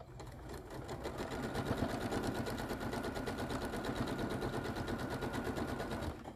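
A sewing machine, likely a mid-arm quilting machine, stitches a quilt seam in one steady, rapid burst close by, with a fast rhythmic needle clatter throughout.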